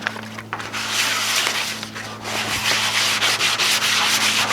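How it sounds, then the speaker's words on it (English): A rough car fender is sanded down by hand, with continuous loud scraping and rubbing strokes that run steadily with short pauses and dominate the whole stretch. "She's a little rough, so we're gonna sand her down, get all the rough edges out."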